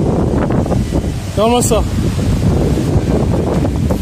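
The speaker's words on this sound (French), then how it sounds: "C'est la tempête dehors!" Strong stormy wind roars outside and thrashes through the trees, a loud continuous gusting blast right against the microphone, while a person briefly exclaims over it.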